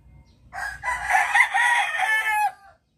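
A young rooster (bullstag) crows once, loud and close, a single strained call of roughly two seconds that rises, holds and cuts off, with no talk over it.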